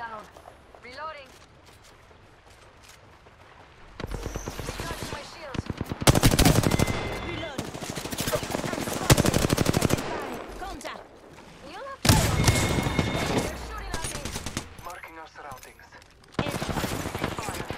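Rapid automatic gunfire in Apex Legends comes in loud bursts separated by brief pauses, with some quieter stretches of game sound between volleys.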